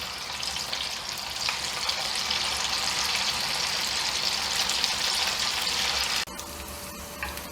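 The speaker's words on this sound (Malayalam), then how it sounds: "ഇതുപോലെ ബാക്കിയുള്ളതെല്ലാം ഇങ്ങനെ ഇട്ടൊന്ന് വറുത്തെടുക്കട്ടെ" Chicken pieces for dragon chicken fry in hot oil, giving a steady, loud, broadband sizzle that holds for several seconds and then drops abruptly to a quieter bubbling near the end.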